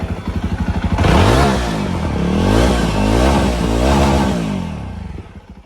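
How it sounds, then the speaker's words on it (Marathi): A Jawa 42 Bobber in Mirror Black idles close by, its engine throbbing in a steady low rhythm that rises into a fuller, louder running note for several seconds before easing back down. "करतो गाडी स्टार्ट. बघा मित्रांनो आपली गाडी स्टार्ट केलेली आहे"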